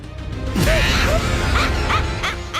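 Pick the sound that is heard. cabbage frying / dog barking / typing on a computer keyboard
dog barking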